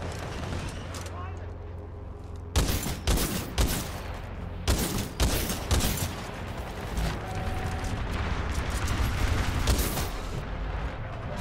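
Titanfall 2 gunfire booms in heavy, sharp volleys, clustered shots in the middle stretch, over a steady rumbling battle backdrop, with a voice speaking between the bursts.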